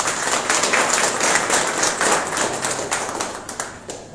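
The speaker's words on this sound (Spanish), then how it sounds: "Y un aplauso para él también." Applause from a crowd gathered for a farmers' union delegates' swearing-in ceremony, a steady wash of many hands clapping at close range, continuous for several seconds with no speech over it.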